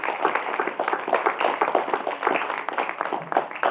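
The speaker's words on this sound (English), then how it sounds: "I think he deserves a big round of applause" An audience at an inauguration ceremony claps in a lively, uneven burst of applause lasting a few seconds, the individual hand claps distinct and fairly close.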